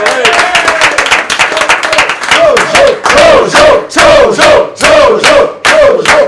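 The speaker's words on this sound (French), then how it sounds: "on applaudit, allez pour Jojo" A loud crowd in a studio applauds and cheers for Jojo, with rhythmic clapping and chanting voices rising in repeated surges, dense and close.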